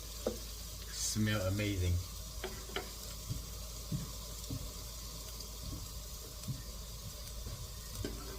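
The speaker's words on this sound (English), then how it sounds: "Stir for like maybe 30 seconds." Vegetable egg roll filling frying and being stirred in a pan, a steady sizzle throughout with intermittent scraping and clicking of the utensil, while a person talks briefly over it.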